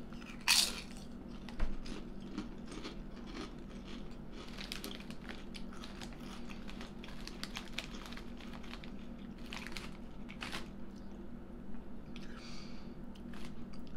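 Crunchy corn chips tasting like Doritos Cool Ranch being bitten and chewed up close, a couple of sharp crunches early followed by quieter, irregular munching and crinkling, no talking.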